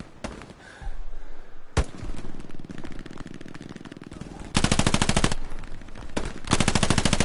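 Gunfire in the video game Hell Let Loose, a single sharp shot followed by sustained machine-gun bursts, dense rapid rattling fire that stops and restarts, loud and close, with a voice speaking beneath it.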